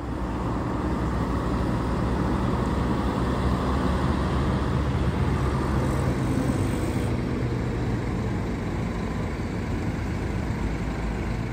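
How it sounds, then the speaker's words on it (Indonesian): A Scania-engined Super Top coach, number 203, pulls away from a rest area where many buses are parked, its engine giving a steady, loud, broadband rumble that holds evenly throughout with no talk. "Suaranya enak banget ya, Scania."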